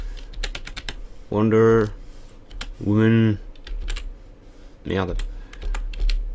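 Computer keyboard keys clack in quick bursts of typing while a voice speaks briefly in between, the tapping close and crisp, entering a name on a keyboard set up differently than expected.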